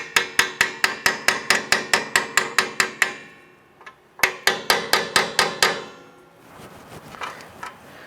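A hammer taps over the metal retainer tabs on a parking brake cable of a 1995-2001 Ford Explorer, with sharp rapid close metallic strikes in two bursts separated by a short pause, then a softer shuffling.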